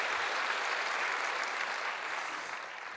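A church congregation at a New Year revival service claps steadily for the middle and high school students seated among them, a dense, even wash of applause that stays loud and fades slightly toward the end.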